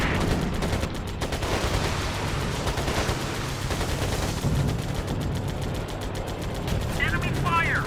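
Continuous enemy gunfire and machine-gun bursts in the WWII Pacific air combat game Air Conflicts Pacific Carriers, a dense steady barrage with engine roar beneath and a brief whistling sound near the end.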